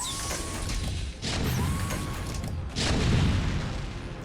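A photon cannon explodes in a StarCraft: Brood War Remastered match on Heartbreak Ridge, giving a loud booming crash over continuous battle noise, with a second heavy blast following moments later.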